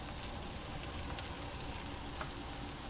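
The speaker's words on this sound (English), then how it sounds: "We're cooking the meatballs on top of the stove." Meatballs fry in a pan on a stovetop with a steady, close, crackling sizzle that holds evenly throughout, with no voices.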